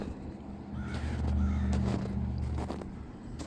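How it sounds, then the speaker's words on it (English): Crow caws outdoors on a snowy residential street after a Minnesota blizzard, a few harsh calls ringing over a steady low traffic rumble at moderate distance. "You can hear the bird singing or crying, whatever you want to call it."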